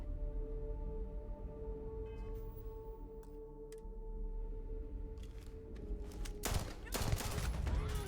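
Pistol gunfire in the game Starfield cracks out as a few sharp shots over a humming game soundscape, with a louder broadband burst near the end.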